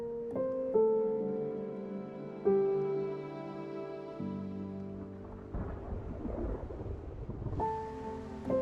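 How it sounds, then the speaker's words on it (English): A thunderstorm with rain in the zombie survival game Project Zomboid: steady rain hiss under deep rumbling thunder, with sustained tonal game music layered over it and no talking. "With the storm showing no signs of stopping, and the light quickly failing"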